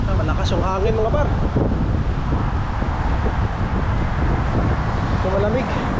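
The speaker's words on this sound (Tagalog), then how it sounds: "Malakas yung hangin" Strong, cold wind buffeting a microphone outdoors in Canada, a constant loud low roar that runs the whole time, with people talking faintly underneath.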